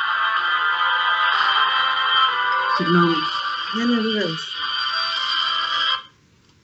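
A phone ringtone plays loudly and continuously for about six seconds before cutting off abruptly, while someone speaks briefly over it.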